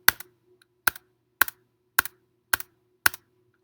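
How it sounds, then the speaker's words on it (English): Spacebar pressed on a computer keyboard, six sharp clacks evenly spaced about half a second apart, each with a quick double tap, close and clear against near silence. "Spacebar."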